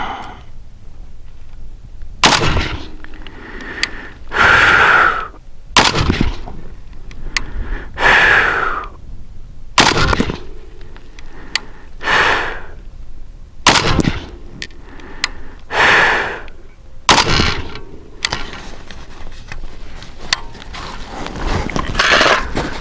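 Rifle firing 55 grain ammunition at an outdoor range, about five sharp loud reports spaced several seconds apart, each followed by echo, with breathing and rustling between shots.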